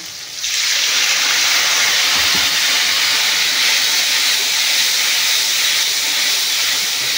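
Loud, steady sizzling of cumin and ginger paste frying in hot oil, starting abruptly after a brief pause and hissing continuously with no talking.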